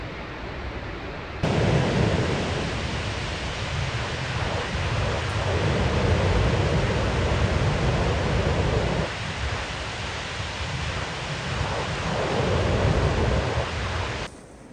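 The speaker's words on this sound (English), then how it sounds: "The sound of the ocean" Steady roaring surf on the Oregon coast, a broad continuous wash of breaking waves that swells and eases gently, fairly loud and unbroken, with no voices.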